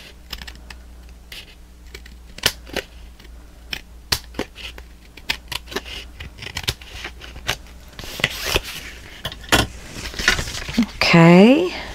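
Scissors snip through paper in a series of sharp, irregular cuts close by, followed by a rustle and a brief high-pitched sound at the end.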